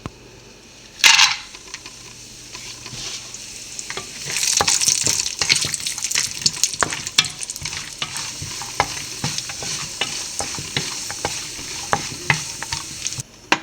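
Cashews frying in hot ghee and oil for an egg biryani garnish, a steady sizzle with a sharp burst near the start, then louder bubbling and scattered clinks of a stirring spoon against the pan.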